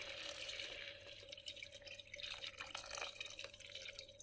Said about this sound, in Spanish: Añadimos el agua